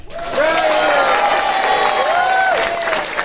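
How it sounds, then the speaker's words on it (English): Audience applause and crowd noise at a 2019 talent show aboard the Prinsendam cruise ship, a steady wash of clapping filling the room with scattered voices and whoops rising above it. "you're going to greet each and every one of them when I introduce them with a thunderous round of applause"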